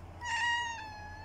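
A single clear domestic cat meow, drawn out and slightly falling at the end, close by over a quiet low room hum, with no talking over it.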